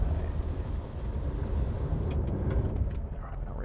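A 2023 Mitsubishi Pajero Sport engine strains off-road with the rear diff lock engaged, a steady loud low rumble under the throttle with some wind buffeting over the microphone and no clear change in pitch.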